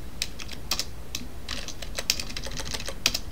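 Code is typed on a computer keyboard in short, irregular bursts of soft clicking keystrokes, heard close and alone at a moderate level.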